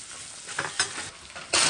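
Unbleached white organic flour stirred into melted butter in a pan for a fish pie roux, giving a soft steady sizzle with scraping stir strokes and a louder burst near the end.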